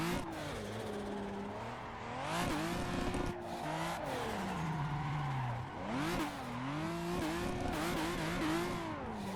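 A sim-racing car drifting in Assetto Corsa, its engine revving up and down through repeated throttle swells with tyre squeal woven in, fairly quiet and with no one talking.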